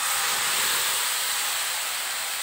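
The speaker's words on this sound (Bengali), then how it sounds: "এবার এই মশলাটাকে কড়াইয়ের মধ্যে দিয়ে দেব।" Spice paste of ginger, garlic, chili and onion hitting a hot wok (kadai), giving a steady, loud steam-like hiss that holds evenly throughout, with no talking.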